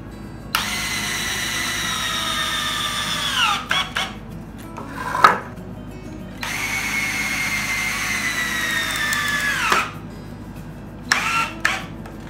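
A power drill drives screws into 2x4 wood legs, giving two long, loud whirring runs that each wind down in pitch as the screw seats. Short bursts of drilling and handling noise fall between the runs.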